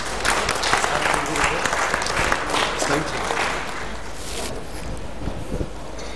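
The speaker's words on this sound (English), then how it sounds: "Please welcome with a huge round of applause, Mr. A.S. Rajgopal." An audience at the C Change 2013 corporate event gives a big, sustained round of applause to welcome speaker A.S. Rajgopal. The clapping is dense and continuous, staying loud and even throughout.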